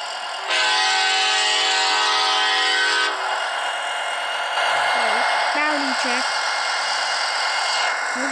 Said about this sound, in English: Now the veterans train is ready to go!